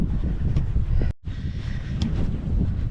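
Gusty wind buffets the microphone outdoors, a rough continuous roar with a brief sudden dropout partway through before the buffeting resumes.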